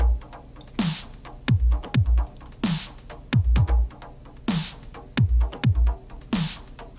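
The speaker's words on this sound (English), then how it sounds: "I've loaded up a drum sample within Bitwig" Looped drum sample playing in Bitwig Studio: a steady groove of deep kicks, snappy snares and bright crash-like hits repeating about every two seconds, clean and upfront with no voices.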